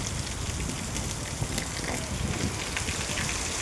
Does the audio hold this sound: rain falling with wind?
yes